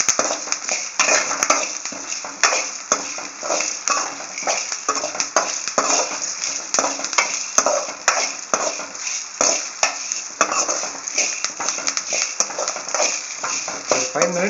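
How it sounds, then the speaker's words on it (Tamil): Garlic cloves dry-roasting without oil in a pan for a garlic lentil spice powder, with steady scraping and stirring clatter of a utensil against the pan throughout, close and fairly loud, with no voices. "இதையே போட்டு அப்படியே நம்ம நல்ல சிவக்க வறுத்து வச்சுக்கணும்"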